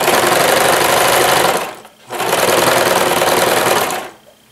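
An embroidery sewing machine stitches cloth in two loud, steady runs of rapid needle strokes, separated by a short pause and ending abruptly, with no talking.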